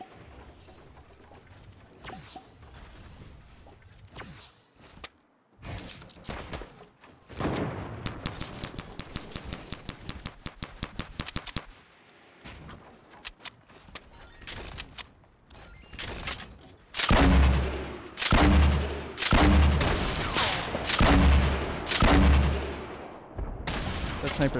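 Sniper gunfire in the Fortnite video game sounds as a series of sharp, loud shots, several bursting closely together toward the end, over a busy game soundscape with no talking.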